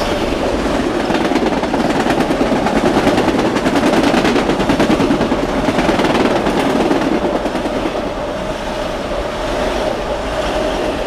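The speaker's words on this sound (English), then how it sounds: "that looks like a train, a Ronkonkoma train" A Long Island Rail Road Ronkonkoma commuter train rumbles past through a station at close range, a steady loud roar of wheels and rattling cars that fades slightly near the end.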